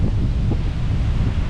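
Strong wind roars across a beach on Boracay, a steady loud rushing buffet battering the microphone with no other sounds.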